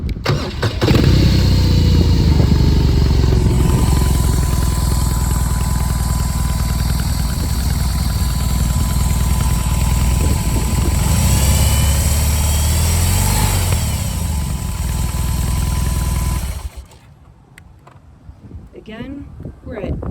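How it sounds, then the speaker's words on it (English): A 2021 BMW R 18 First Edition motorcycle engine runs loudly and steadily for most of the stretch, with a low rumbling drone under occasional talk, then cuts off abruptly near the end, leaving quieter background. "You have to pull the clutch in when you start the bike"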